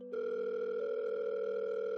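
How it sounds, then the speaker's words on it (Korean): Telephone call tone on a call that goes unanswered: a steady, unbroken electronic tone that starts abruptly and holds level throughout, clear and close, with no voices. "재우 형이 승현이 형에게 전화를 걸었는데 안 받는 거예요"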